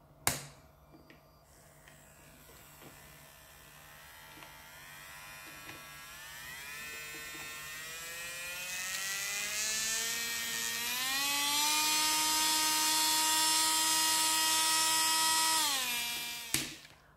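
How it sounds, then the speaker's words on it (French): A power sander whirs to life, its whine climbing steadily in pitch to a loud, fast spin before switching off abruptly. "je vais allumer la ponceuse juste pour vous montrer, juste avec le bruit, à quel point elle tourne vraiment très rapidement."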